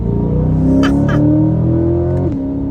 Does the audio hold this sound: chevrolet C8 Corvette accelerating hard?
yes